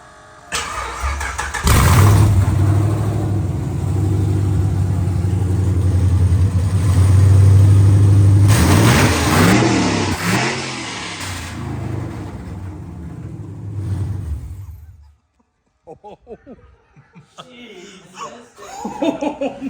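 A 1000-horsepower turbocharged Ram truck engine with open headers starts and revs hard, two loud close bursts of roaring, then drops off into laughter and talking from people nearby.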